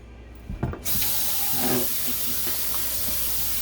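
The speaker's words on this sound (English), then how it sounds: "when it's starting to sizzle, you can put the chicken in" Steady broadband hiss of oil and butter sizzling in a pan, rising after a brief clatter and continuing evenly, close and fairly loud.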